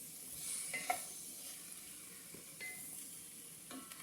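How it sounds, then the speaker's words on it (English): Veal scaloppine sauce simmering in a pan gives a faint, steady sizzle close by, with a few light clinks of a utensil against the pan and no voices. "So I'm going to let that simmer a little bit."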